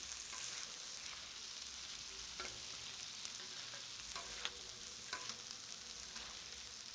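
Chicken pepper fry cooking on a tawa, a continuous close sizzle with scattered clinks and scrapes of a spatula stirring the pieces.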